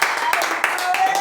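A church congregation applauds Christ with brief, dense clapping in quick bursts, close and fairly loud, over a murmur of voices.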